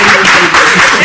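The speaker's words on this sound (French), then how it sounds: "Ce sont les caméramans qui applaudissent à la salle des profs" Camera operators applauding in a television studio, a steady wash of clapping from several people filling the short moment without pause.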